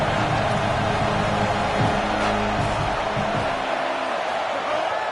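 Stadium crowd in a college football video game roars steadily behind the defense, a broad, loud wash of cheering with brief thuds and rumbles mixed in, and a voice speaks over it.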